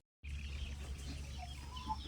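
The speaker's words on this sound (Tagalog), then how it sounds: "Pinalabas ko na po itong mga alaga kong manok. Ayan, nanginginain po sila." Chickens cluck softly now and then over a steady low hum of background noise, the calls scattered and fairly quiet.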